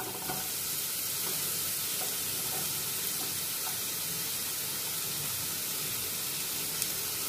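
Big onions sautéing in a pan for a Tamil egg curry, a steady close hiss and crackle of sizzling oil with occasional faint stirring clicks, continuous and fairly loud throughout with no talk.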